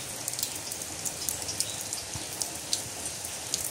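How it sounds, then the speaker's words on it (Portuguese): Light rain drips through a leaking roof at a rural homestead in Brazil's northeastern interior, a constant soft hiss of rainfall broken by scattered, irregular nearby drip taps, with no voices. "de leve, já tá pingando a goteira."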